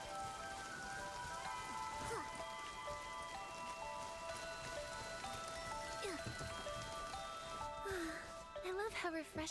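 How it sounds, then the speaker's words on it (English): Video game rain falls steadily, a constant hiss of drops on surfaces with light patters, alongside game music tones and occasional brief vocal sounds. "I love how refreshing the cool raindrops feel."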